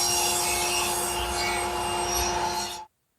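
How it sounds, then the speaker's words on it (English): A table saw rips wood into 3-inch strips with a steady, loud whirring blade and a rough cutting hiss, holding for nearly three seconds before stopping abruptly. "I'll then take my 36-inch piece over to the table saw and I'm going to cut two 3-inch strips"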